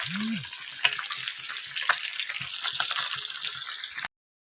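Tangra fish frying in a home kitchen pan, a steady broadband sizzle with scattered pops and crackles running throughout, close and fairly loud, with faint background voices.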